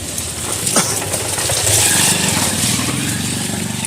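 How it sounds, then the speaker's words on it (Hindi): Motorbikes pull away one after another at a railway level crossing on a cold, rainy December evening; a steady engine rumble blends with broadband rain and traffic noise, fairly close and continuous throughout. "कुछ लोग जो हैं वो अपने बाइक से निकल रहे हैं।"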